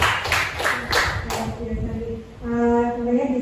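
An audience at a teacher training session claps in a brief burst of several sharp hand claps, then fades into a sustained tone as the clapping ends.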